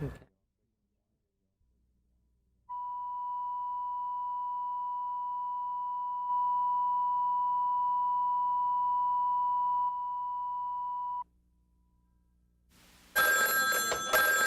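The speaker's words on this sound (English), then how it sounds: "The telephone has come a long way since models like this one used on the old-fashioned party lines" An old-fashioned party-line telephone bell rings in one long steady tone lasting several seconds before stopping, followed by a burst of louder broadband sound at the end.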